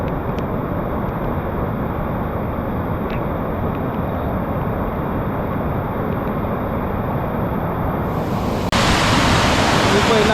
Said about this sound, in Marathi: पाऊस असला आहे की या वड्याला केवढं पाणी आहे.